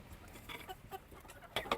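Farm chicks peck at their feed, giving off soft, faint, brief clucks and peeps, with a couple of sharper chirps near the end.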